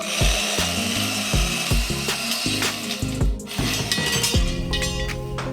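Portable band saw cutting through metal parts of a 20-ton hydraulic shop press, with a steady loud grinding rasp and repeated sharp clanks and knocks throughout, no talking.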